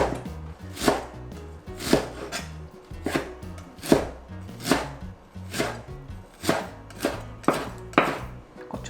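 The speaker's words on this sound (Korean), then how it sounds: "달래장 하는 건 좀 잘게 잘라야 돼" A knife chops wild chives (dallae) finely on a cutting board, about a dozen sharp, evenly spaced knocks at a steady rhythm, close and clear with no talking.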